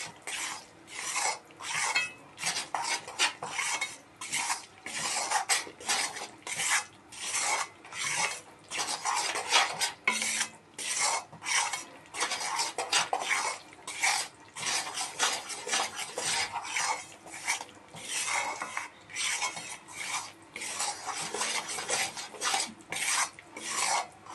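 Water chestnut flour roasts in a pan over a low flame, heard as repeated soft scraping and rasping strokes of a spatula against the pan, steady and rhythmic, fairly quiet, with no talking.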